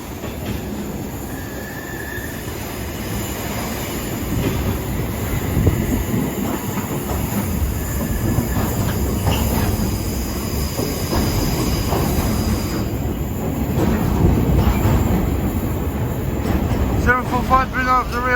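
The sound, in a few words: train passing on railway line in south London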